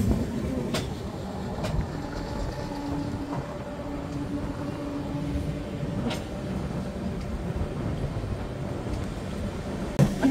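The Howrah–Puri Shatabdi Express rumbles past nearby, a continuous low roar with sharp rattling clicks from the wheels and some wind buffeting.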